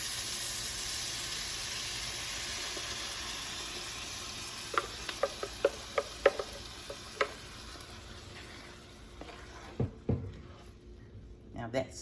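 Fresh tomatoes stirred into a cooking pot for tomato basil soup bring a soft, steady sizzling hiss, broken by a quick series of spoon clicks against the pot, then a few more scrapes as the sizzle fades.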